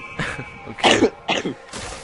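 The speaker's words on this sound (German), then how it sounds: "Huste dich aus." Someone nearby coughs and clears their throat in a few harsh bursts separated by short gaps, loud and close, with no talking.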